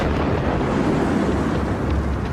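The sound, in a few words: sonic bang air blast from comet impact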